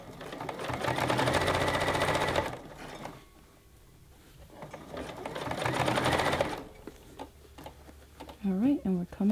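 A sewing machine stitches the binding on a reversible round fabric basket. Two rapid, rattling runs of stitching are separated by a quiet pause, and a voice briefly speaks at the end.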